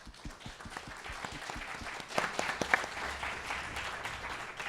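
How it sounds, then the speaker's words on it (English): Faint, sparse applause from a modest audience at a Calgary Ward 7 debate in Montgomery, with individual claps distinct and irregular rather than a dense roar. "A round of applause"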